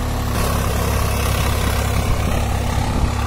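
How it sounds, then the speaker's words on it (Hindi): A Swaraj 744 XT 52 HP farm tractor idles nearby with a steady, deep, unbroken diesel rumble that stays loud and even throughout, with no voices. "ट्रैक्टर की साउंड जबरदस्त है भाइयों।"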